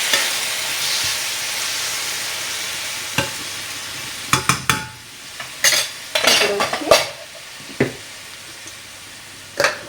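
Tomatoes stirred into cauliflower curry frying in a pan, a steady sizzle with a run of spoon scrapes and clinks against the pan, close and fairly loud.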